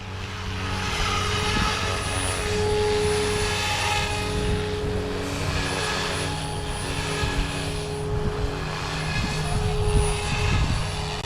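An RC helicopter, an OMP Hobby M4 or SAB Goblin RAW 420, flies at a lowered head speed, giving a steady, continuous rotor and motor whine with a layered buzzing hum that holds at an even level throughout.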